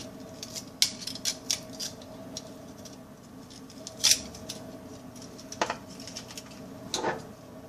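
Nichrome wire snipped with cutters: several sharp, close clicks spaced irregularly, with brief handling noise between cuts.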